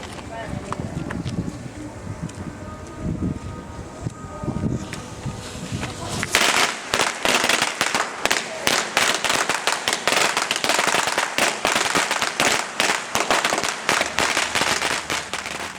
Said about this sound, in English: We cannot launch without firecrackers.